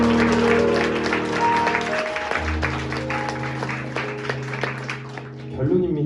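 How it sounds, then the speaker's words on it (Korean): A crowd at a one-day gospel camp event applauds and cheers, a broad wash of clapping sitting under sustained music tones, easing off toward the end. "박수하겠습니다."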